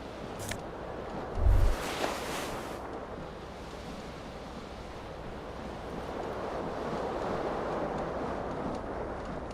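Ocean waves wash in a hazy Disco Elysium game scene, a soft continuous surf with gusting wind, a brief low thump and a hiss early on, no speech.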